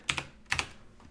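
A computer keyboard is typed on at close range, with two quick pairs of crisp key clicks and a faint final tap.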